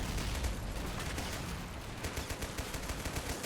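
A Bren light machine gun fires in the World War II strategy game Men of War, set at Tobruk, with dense rattling bursts amid a noisy battle din, loud and without speech.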